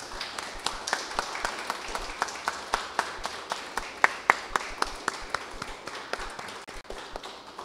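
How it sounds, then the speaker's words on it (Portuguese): A church congregation claps during a Sunday service, with sparse, distinct individual claps in an irregular patter that stays fairly soft and even throughout. "Manda uma salva de palmas,"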